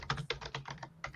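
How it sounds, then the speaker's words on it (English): Quick, uneven bursts of key clicks from a computer keyboard, someone typing close by at a steady pace with short pauses, no voices over it. "Someone's typing."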